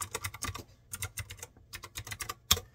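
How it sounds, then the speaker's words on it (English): Keys clatter on a Razer Wolverine Chroma V2 keyboard in bursts of crisp clicks, a quick flurry of typing with short pauses, close up and fairly quiet, ending on one sharper tap. "Y'all hear that keyboard, baby? Sound good, don't it? I love hearing the clickety clack of the keys."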